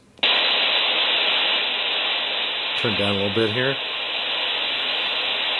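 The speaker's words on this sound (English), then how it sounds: "Now you're not getting any radio interference whatsoever. It's just pure white noise." Steady, loud broadband white noise from the SV-1 SpiritVox Android app fills the whole clip, switching on abruptly at the start, with someone briefly speaking over it midway.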